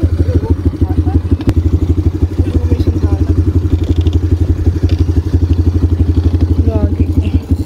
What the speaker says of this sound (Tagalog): May ATV din pala dito.